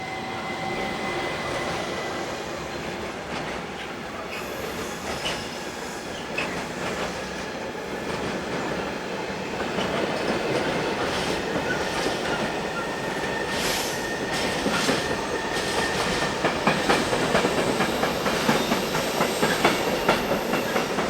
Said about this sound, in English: Hybrid electro-diesel shunter number 923002 is on this westbound trip freight.